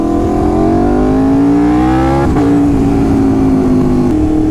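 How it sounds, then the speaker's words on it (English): An Aprilia RSV4 motorcycle fitted with an SC Project CR-T exhaust revs loudly at close range, its engine note rising steadily, then snapping back to a lower steady drone, with no talk over it. "I think it's meant to sound like an animal, and I think the CRT exhaust complements it very well."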